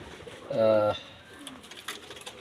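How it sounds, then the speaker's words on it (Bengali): A male Kasturi pigeon, one with an injured leg, gives a single short resonant coo close by, followed by faint rustling and low background noise. "আর এই যে আমার একটা কাস্তুরি মেল কবুতর আপনি দেখতে পাচ্ছেন"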